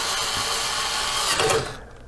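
A power drill driving screws, a steady close whirring that rises briefly near the end before cutting off, followed by quiet.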